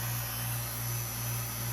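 A vacuum pump runs steadily for a carbon fiber vacuum infusion of 427 Cammer valve covers, giving a constant, even drone with a low tonal hum and broad hiss and no breaks, heard alone.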